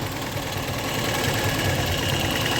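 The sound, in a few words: VAZ 2109 car engine running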